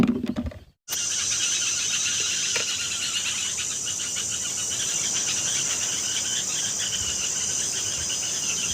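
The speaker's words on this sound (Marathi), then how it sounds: "आता सगळे पक्षी परतलेले त्याचा आवाज आणि रातकिड्याचा आवाज बघा" Crickets chirp at dusk in a dense, continuous high trill, steady and fairly faint, with a few distant calls of birds returning to roost after a brief silence at the start.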